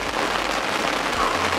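Rain pours steadily on a bivvy shelter beside a reservoir during carp fishing, a dense, close, even patter filling the whole moment with no pauses and no talking.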